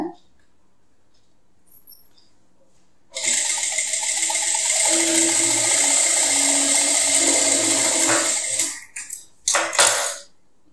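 Sewing machine running long stitches at a stitch length of 5, a quiet start followed by a sustained close, even mechanical whir for several seconds that stops, then a couple of short bursts.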